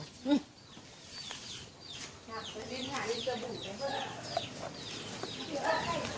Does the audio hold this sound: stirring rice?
no